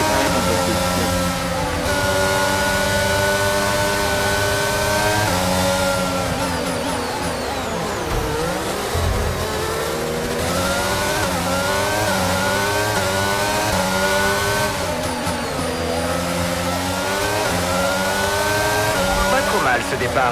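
Several F1 cars roar off the line at the start of an F1 22 race in Monaco, engines revving and shifting up in overlapping pitched whines that stay loud throughout, with a voice talking over them.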